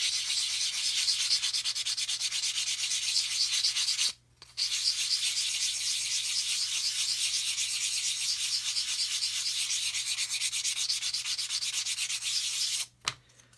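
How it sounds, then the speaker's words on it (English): Steady, continuous sanding of material on a beginner's model aircraft build, an even abrasive rubbing that runs close and loud with two brief pauses, no talking. "sanding some material from there"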